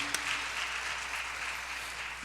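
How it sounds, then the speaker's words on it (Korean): A church congregation at a Sunday worship service applauds steadily and continuously, a dense close wash of clapping throughout with no talking over it. "은혜 주신 하나님께 영광의 박수 드리겠습니다."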